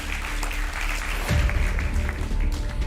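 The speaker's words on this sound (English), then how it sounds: "A round of applause for them." Audience applause at a school debate competition, a steady crowd clapping throughout that swells louder partway through, with a low rumble of the hall underneath.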